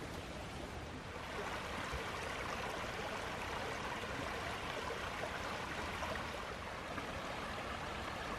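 A small tributary of a creek in the Panther Den Wilderness flows steadily, a constant soft rush of water with no voices.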